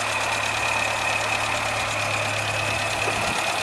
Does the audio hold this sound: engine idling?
yes